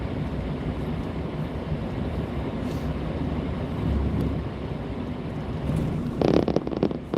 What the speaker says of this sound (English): Rumble strips everywhere.